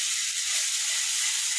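Hot oil sizzles steadily and loudly, a bright continuous hiss of spices frying as a tadka for dal, close up with no talking.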